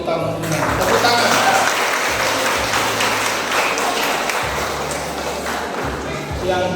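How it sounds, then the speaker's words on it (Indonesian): A church congregation at a confirmation service applauds a young person being presented, with moderate clapping under low thumps and some background voices. "Tepuk tangan."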